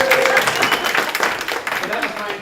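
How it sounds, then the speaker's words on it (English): Audience applause at a responsible research and innovation conference open-space session, a steady wash of clapping with a voice talking over it near the start. "Please give a hand of applause"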